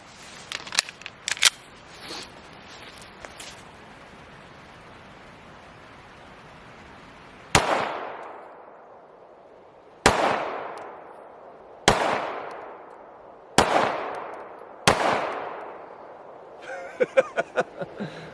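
Shots from a Canik Rival Dark Side pistol, five sharp loud reports spaced a couple of seconds apart, each trailing off in a ringing outdoor echo, with lighter clicks and handling noises before and after.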